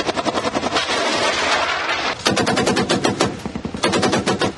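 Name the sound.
gunfire across the border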